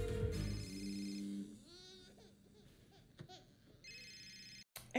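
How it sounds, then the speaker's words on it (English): A phone rings in the TV show Lucifer: an electronic ringtone plays in two short bursts, separated by a stretch of muffled noise and chatter. "So I'm gonna call Lucifer and see if he still has eyes on Jed."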